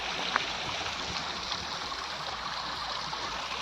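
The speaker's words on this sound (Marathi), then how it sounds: "असंच पाणी खाली जाते" Water runs down a stream in open grazing land where sheep feed, a steady broadband rush and trickle heard close and fairly loud, with no voices.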